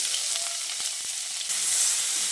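Chopped onion goes into hot oil with whole cumin and sizzles in a loud, steady, close-up hiss, with a few light stirring taps early on and a brighter burst of frying midway.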